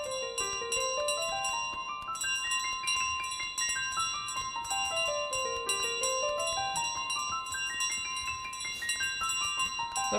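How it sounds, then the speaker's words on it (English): A bell in Untitled Goose Game rings over and over in rapid, bright tinkling runs that climb and fall in pitch, loud and clear with no talking. "While ringing the bell."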